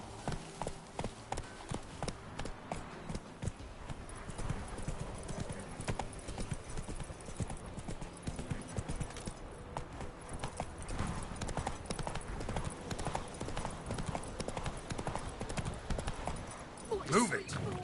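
Horse hooves galloping in The Witcher 3, a rapid, steady clip-clop of hoofbeats running the whole time, with game voices and a brief horse whinny near the end.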